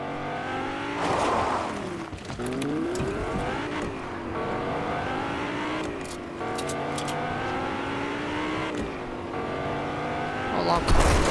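A car in the video game Fortnite drives off, its engine revving and rising in pitch through repeated gear changes, loud and close, with tire noise near the end.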